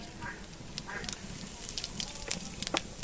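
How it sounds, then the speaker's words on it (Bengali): Cumin seeds hit hot oil for tempering before okra and potatoes are added, giving a faint sizzle with scattered sharp crackles and pops that grow busier toward the end. "জিরে ফোড়ন দিয়ে দিচ্ছি।"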